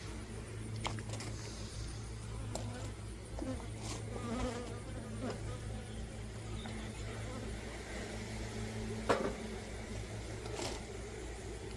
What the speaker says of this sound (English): Does look like I've got plenty of worker bees covering the brood